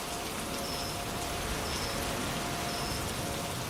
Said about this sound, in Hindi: और बारिश अभी तक रुके नहीं थी